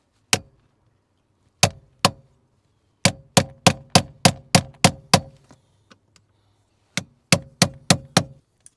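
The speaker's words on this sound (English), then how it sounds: "First I gotta get this shear bolt out, so I gotta try to chisel it and knock it loose." Sharp metallic strikes of a hammer driving a chisel against a sheared bolt during a mobile mechanic's repair, coming in clusters: two single blows, then a rapid run of about nine, a pause, and a final burst of five, loud and close.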